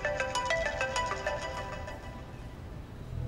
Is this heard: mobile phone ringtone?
yes